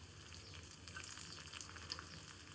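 Green chillies and cumin seeds fry in hot ghee, giving a soft, steady sizzle with faint crackles. The sound is quiet and close, with no talking.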